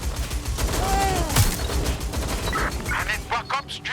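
Gunfire in the Watch Dogs: Legion video game, rapid bursts of shots over a loud, busy combat mix, with a brief whistling tone and clattering effects toward the end.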